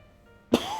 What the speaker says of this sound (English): That's probably why I'm like coughing so much today.